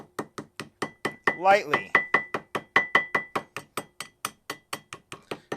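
A hammer strikes the inside edge of a part on a Yamaha 708 ATV engine overhaul, a steady train of close, ringing metallic taps about four per second, briefly overlapped by a short spoken word.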